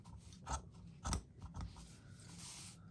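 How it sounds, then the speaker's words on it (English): Scissors snip through paper in a straight cut toward a marked dot for a DIY Christmas gnome craft, three or four quiet, close crisp snips followed by a soft rustle. "So just cut straight to that dot"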